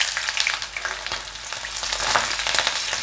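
Green beans deep-frying in oil in a kadai give off a steady, close crackling sizzle with dense popping bubbles that hold through the whole stretch, with no voices.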